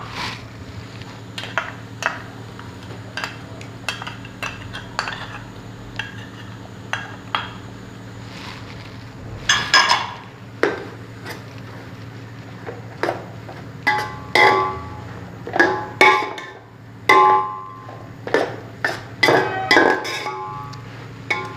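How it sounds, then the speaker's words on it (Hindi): Ghee going into a pan of half-cooked carrot halwa, with spoon and metal pan clinks and scrapes recurring irregularly throughout, growing busier and louder toward the end over a steady low stove hum. "अब इसमें हम डालेंगे घी।"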